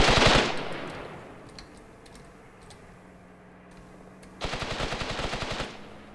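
Gunfire in Graviteam Tactics, a tank battle with a 5cm gun firing on an enemy tank: a loud rapid burst opens, gives way to a quiet stretch with faint distant shots, then a second close, rattling burst.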